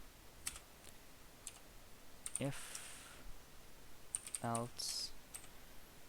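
Keys clack softly on a computer keyboard while Python code is typed, a few scattered clicks then a quicker burst, faint and close, with a voice speaking briefly over it.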